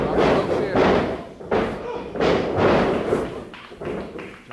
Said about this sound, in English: Knocks him down with a shoulder tackle.